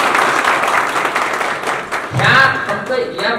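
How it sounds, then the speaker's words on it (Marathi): Applause breaks out from a gathered audience at a public dialogue event, a short burst of clapping that rises near the end and blends with crowd noise and some voices. "त्यांचं जोरदार टाळ्या वाजवून आपण स्वागत करू"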